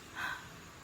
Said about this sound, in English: That's the sound of Dad blowing his nose because he is sick today